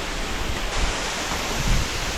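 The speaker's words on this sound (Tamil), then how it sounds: "இந்த அருவி வந்து 1000 அடி உயரத்துலேருந்து விழுந்துக்கிட்டு இருக்குது" Tall waterfall plunging from about 1000 feet into a deep pool near Kodaikanal, giving a loud, steady, broadband rushing roar with no voices.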